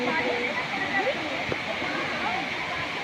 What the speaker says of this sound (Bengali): এই ঝর্ণার জল পড়ছে।